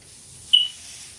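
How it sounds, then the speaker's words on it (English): A single short electronic beep sounds once, clear and fairly loud, over an otherwise quiet room background. "Beep, beep, beep, beep, beep."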